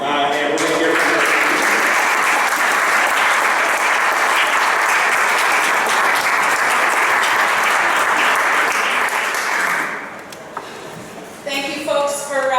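An audience at the 2021 EAN Summit applauds to welcome a speaker: dense, loud clapping runs steadily for about ten seconds, then fades as a voice begins talking near the end.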